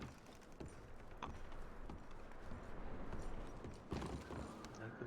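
Horses shuffle and clop quietly on the ground in Red Dead Redemption 2, with faint hoof steps, creaks and rustling, and muffled voices talking underneath.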